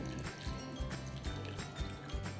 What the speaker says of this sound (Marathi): आता हा पुन्हा मी एक पाण्याने स्वच्छ हा धुवून घेते